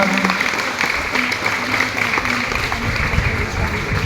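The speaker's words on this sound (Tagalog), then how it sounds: "Isang malakas na palakpak." Audience clapping at an elementary school graduation, a steady moderate patter of many hands with a faint tonal hum and background murmur beneath it.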